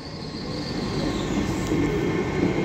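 A TransPennine Express class 802 train, unit 802213, rolls through Manchester Victoria with a steady rumble of wheels on track and a faint high squeal.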